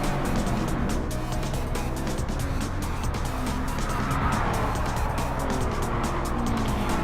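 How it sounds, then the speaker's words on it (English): A GTO race car slides with tire squeal amid the continuous roar of racing engines, a loud, dense, sustained rush of motor noise. "There's a big slide there from the GTO."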